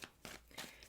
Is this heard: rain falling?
no